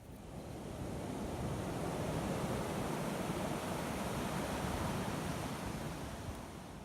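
Ocean waves wash steadily onto the beach at False Cape, a broad continuous roar of surf that swells slightly and then eases, with no voices.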